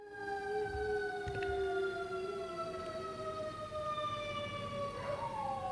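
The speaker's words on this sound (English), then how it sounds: "Can you hear those sirens?" Wailing sirens sound steadily throughout, distant and sustained, their pitch sweeping slowly, with low rumbling background noise underneath.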